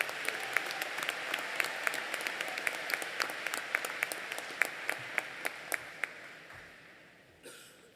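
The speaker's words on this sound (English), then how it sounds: "Please give a round of applause to this amazing group of students." Convocation audience at Abbotsford Senior Secondary applauds a group of scholarship students, steady dense clapping with sharper individual claps standing out, gradually fading toward the end.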